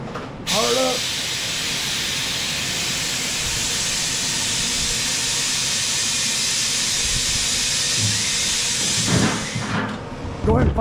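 The small engine of a Troy-Bilt TB130 push mower, just serviced after two years in storage, runs with a steady loud roar and hiss after starting, holding even until it cuts off near the end.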